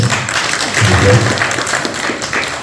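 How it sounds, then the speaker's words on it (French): Applause from a forum audience for a guest named Minos, a moderate wash of clapping from a crowd, with murmuring voices mixed in underneath. "On applaudit pour Minos."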